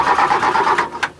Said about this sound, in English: And this couple still couldn't get their car to start.